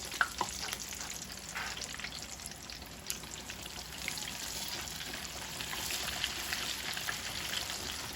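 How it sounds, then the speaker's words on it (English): Oil sizzles and crackles steadily as chicken fries, with a constant close hiss and occasional sharper pops throughout. "And we're just going to let those fry for like 10 minutes."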